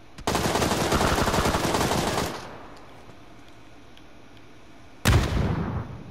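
Loud sustained video game gunfire and a blast in a Chicken match, a dense burst lasting about two seconds, then quiet, then another sharp explosive burst near the end.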